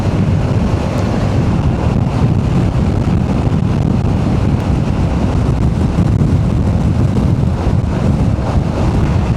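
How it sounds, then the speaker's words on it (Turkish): Strong wind buffets the microphone of a Honda ADV 350 rider on a Mediterranean coastal road in Türkiye, a constant loud roar, rumbling and gusting throughout with no talking. "Çok rüzgar, çok."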